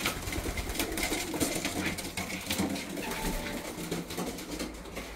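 A loft of young racing pigeons, blue checks and blue bars, keeps up a soft, continuous cooing close by, with light rustling and occasional small knocks beneath the calls.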